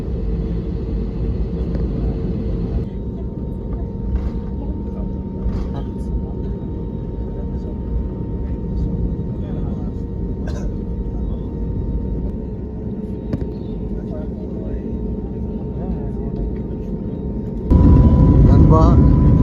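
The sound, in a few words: airplane taking off, loud engine roar on the runway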